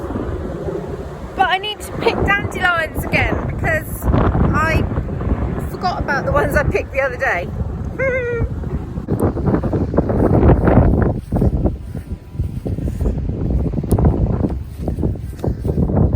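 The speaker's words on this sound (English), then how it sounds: "It's so windy" Strong wind buffets the microphone outdoors in rough, rumbling gusts that swell and ease throughout, loud and close, with someone talking over it in the first half.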